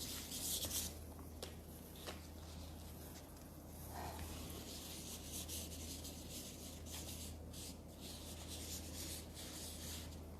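A pencil sketches roughly on paper in steady, continuous scratchy strokes, close and fairly quiet over a constant low hum, with no one speaking.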